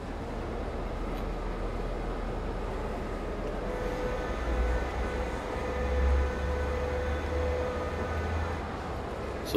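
Simulated locomotive in Train Sim World 4 rumbling steadily at low speed through a station, a continuous low drone with a faint tonal whine, swelling slightly midway, no talk.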